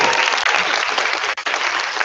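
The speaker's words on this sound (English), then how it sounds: "I think I want another round of applause for this video." A seminar audience gives a round of applause after a video is shown, dense steady clapping filling the whole moment close and loud.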